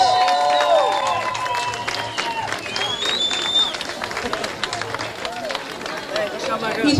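A crowd applauding and cheering at a local festival in Santa Bárbara, a steady wash of clapping with whistles and voices mixed in throughout.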